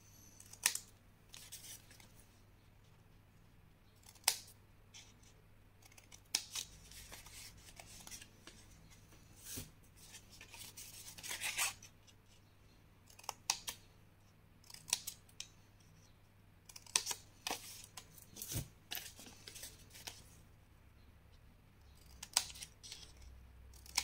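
Scissors snipping paper while shaping a scrapbooking box for a large bottle, a series of short, crisp cuts at uneven intervals with pauses between, close and fairly quiet over a faint low hum.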